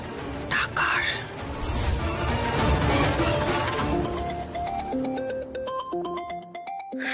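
A mobile phone ringtone in a Bengali TV drama scene: a noisy stretch with voices gives way to a clear, repeating melodic ring that sounds out alone toward the end.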